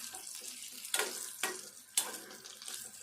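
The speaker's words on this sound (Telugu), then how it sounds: "ఈ మిర్చి కూడా ఇట్లా వేగాలి." Chickpeas and green chillies frying in a pan with salt, a faint, close sizzle broken by a few sharp scrapes or clinks of stirring, no one talking.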